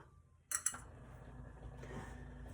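A mixing bowl being set down and handled in a home kitchen while preparing heavy cream for cranachan, giving two quick close clinks followed by faint rustling handling noise.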